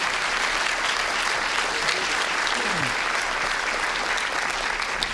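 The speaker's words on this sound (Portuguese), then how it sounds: "Dê uma salva de palmas bem calorosa a Jesus" A church congregation gives warm applause, a thick and even roar of many hands clapping at once over a low hum, with a faint voice briefly audible beneath it.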